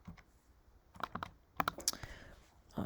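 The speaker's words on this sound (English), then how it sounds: "here, let me just type it in here." Typing on a computer keyboard: a few quiet, irregular bursts of keystroke clicks with short gaps, close to the mic in a quiet room.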